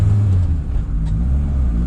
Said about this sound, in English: I don't think I've driven a car this old before.